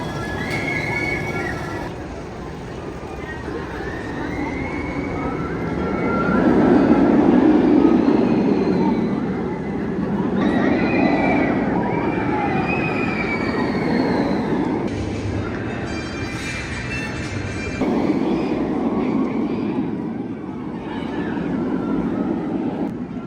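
A Batman roller coaster at a Six Flags park, with a continuous rumbling, clattering ride sound and rising and falling whooshes over about twenty seconds, loud and steady throughout.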